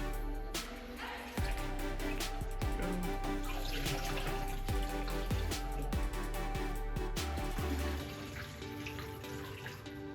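Steeped black tea poured into cider jugs, a steady liquid pour with clinks and knocks of the containers, close and continuous, no talk.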